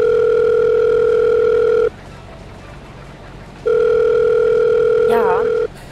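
Steady telephone dial tone heard during a phone call in a Farming Simulator 22 roleplay, a loud continuous hum broken by a pause, then resuming and ending with a brief warbling beep.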